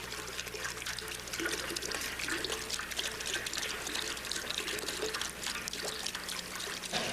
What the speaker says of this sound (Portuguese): O ar entra aqui e pressiona a água para baixo por aqui, forçando este jato de água a voltar para este tubo